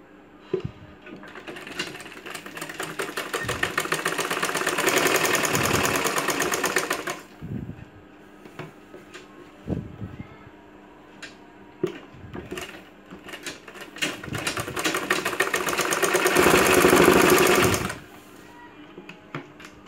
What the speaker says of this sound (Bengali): এবার আমি সাইড সেলাই করব।